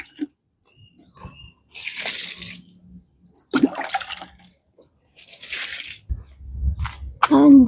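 Plain water is poured over water spinach and other garden plants, coming in several separate splashing bursts of moderate loudness, with quiet gaps between them.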